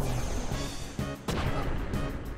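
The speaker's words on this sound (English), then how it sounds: "And I think there's one more explosion." Explosions burst in a Final Fantasy X battle, a few heavy booming blasts over a busy game soundtrack, moderately loud and without speech.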